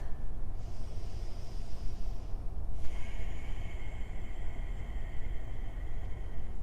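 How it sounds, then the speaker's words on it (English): Steady, loud ujjayi breathing during a power yoga session, a continuous hissing breath with a throaty, oceanic rasp, flowing unbroken from one breath into the next with no talk. "Warming ourselves up with that ujjayi breath"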